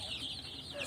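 Baby chicks on a small poultry farm peep continuously in a dense, high-pitched chorus, close and steady, with a faint lower clucking underneath and no talk.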